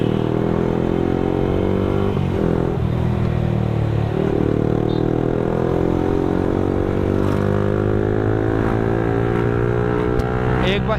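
A Yamaha R15M motorcycle engine fitted with an aftermarket exhaust revs hard and steadily at high rpm, a loud continuous drone with shifting harmonics filling the whole stretch, with a voice talking over it.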